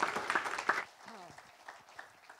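Audience at a church service applauds the praise and worship team with a brief burst of clapping that fades within a second, followed by a speaking voice.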